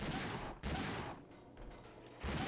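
Gunshots from the video game Dino Crisis 2, three loud sharp blasts with decaying tails spaced apart, close and alone.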